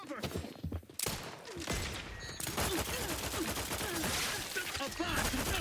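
Gunfire in the video game Outer Worlds 2, a dense fusillade of rapid shots and impacts with an abrupt pause near the start, mixed with game voices and effects.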